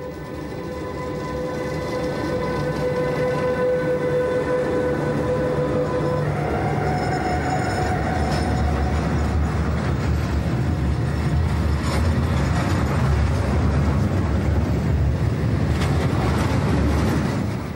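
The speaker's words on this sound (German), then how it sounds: "hat einen Neubau 145 von ArcelorMittal Ausfahrt." A newly built class 145 electric freight locomotive in ArcelorMittal service pulls out with its freight train, giving a steady, loud rumble of rolling wagons and wheels on rail, with a faint electric whine early on.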